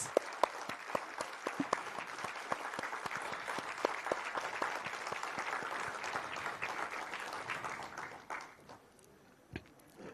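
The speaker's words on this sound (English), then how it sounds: "A big round of applause, my dear friends." Audience applause at a meditation leaders' conference: sustained clapping from a large crowd with distinct close individual claps standing out, thinning and tapering off near the end.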